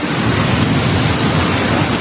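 The swollen Marikina River, nearly overflowing after heavy rain, rushes past in a loud, continuous broadband roar with no voices and no letup.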